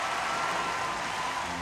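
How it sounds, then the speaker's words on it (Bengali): Cartoon crowd at an air show gives steady, even applause, a continuous wash of clapping that holds at moderate loudness for a brief moment with no voices over it. "জোরে তালি দিন"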